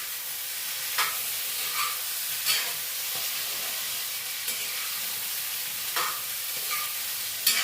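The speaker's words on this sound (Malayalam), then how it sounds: "ആ ഉള്ളി ഒന്ന് ഇതിനകത്തൊന്ന് വഴണ്ട് കിട്ടണം" Onions sautéing in a pan for a yam erissery, a steady close sizzle with a spoon scraping and stirring at intervals, sharper clatter bursts roughly every second or two, no voices.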